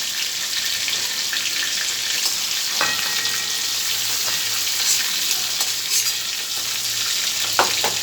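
Prawns frying in hot oil in a pan give a dense, continuous sizzle, loud and close, with a few brief clatters of stirring over the steady hiss.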